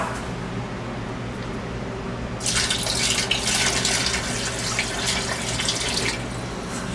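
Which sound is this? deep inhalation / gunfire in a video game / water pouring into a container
water pouring into a container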